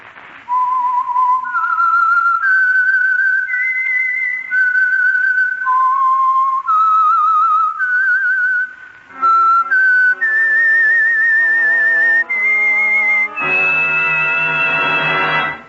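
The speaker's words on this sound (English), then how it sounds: "the signal to listen for is this whistle" A lone whistled melody, the signature tune of the radio program The Whistler, clear and loud, moving through a slow, eerie series of sustained notes before ending on a higher flourish.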